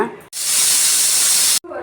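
A loud, steady steam hiss bursts out for over a second, a pressure cooker whistle venting while cooking chicken pepper masala gravy, then cuts off abruptly.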